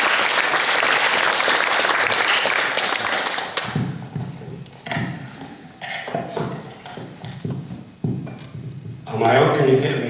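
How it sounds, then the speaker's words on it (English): Loud audience applause fills the opening seconds at an event honoring a couple's 50th wedding anniversary, then fades into scattered claps and room noise as a voice begins talking. "let's give him a round of applause"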